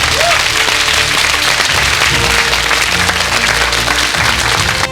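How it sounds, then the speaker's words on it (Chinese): A studio audience at the final round of a celebrity debate show applauds to welcome the debaters, a dense, loud, continuous wash of clapping that fills the room throughout, with a voice faintly audible beneath. "让我们用掌声欢迎他们。"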